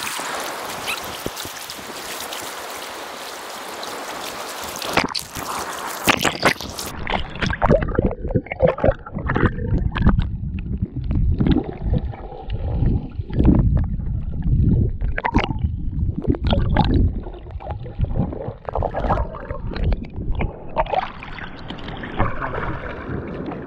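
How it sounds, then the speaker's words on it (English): Choppy ocean water at Sharks Cove, Guam, sloshing and splashing close by while someone swims, with bursts of turbulent, gurgling surges after a rush of noise at the start. "Oh, water. It's choppy."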